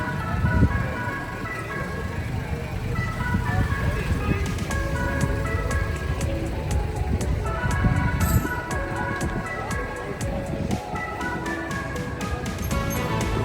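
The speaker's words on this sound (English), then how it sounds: "little ice cream trucks everywhere" Ice cream trucks in a busy town centre play repeating chiming jingle tunes over street and traffic noise, with a person talking over them throughout.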